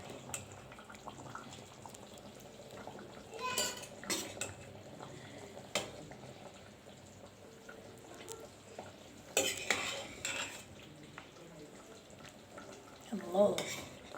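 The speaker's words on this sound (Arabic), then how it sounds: "نكمل غرف بقى" A spoon scoops fake kofta kebab, made from rice, out of a cooking pot: quiet background bubbling broken by several short bursts of metal scraping against the pot, each followed by a pause.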